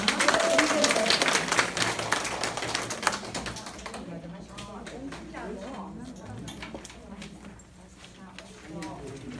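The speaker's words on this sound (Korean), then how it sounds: "다시 한번 뜨거운 박수 부탁드립니다" Audience applause at a career talk concert, loud and dense at first, then thinning out into scattered individual claps that trail off, with voices murmuring underneath.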